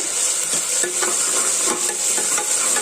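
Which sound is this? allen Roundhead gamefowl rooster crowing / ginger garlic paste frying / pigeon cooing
ginger garlic paste frying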